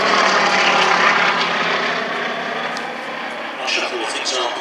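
A 1936 Gloster Gladiator Mark 1 biplane flying at the Shuttleworth Heritage Airshow, its propeller engine droning loudly and steadily, easing slightly in the middle, with a commentator speaking over the sound.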